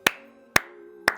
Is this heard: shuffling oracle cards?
no